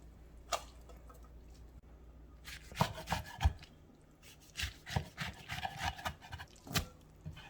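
Sweet potato stems are cut into three pieces on a cutting board while a braised cutlassfish dish is being prepared. Scattered knife chops and rubbing sounds come in uneven bursts, close and fairly quiet, with no talk.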